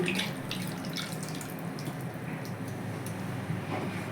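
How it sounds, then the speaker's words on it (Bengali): Running water splashes continuously as a spice jar is rinsed at a sink, a steady close wash of water with no one speaking. "মশলার জারটা ধুয়ে একটু জল দিয়ে দিচ্ছি"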